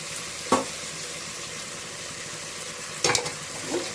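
A mushroom biryani mixture with mint and coriander sizzles softly in a pan, with a couple of sharp spoon scrapes as it is stirred, close and without talk.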